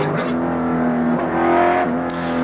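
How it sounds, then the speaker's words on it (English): From inside Peter Brock's Mobile Holden Commodore racing at Bathurst in 1991, a loud, steady engine drone holds under the in-car camera, its pitch shifting between gears. "So we take race cam inside Peter Brock's Mobile Commodore"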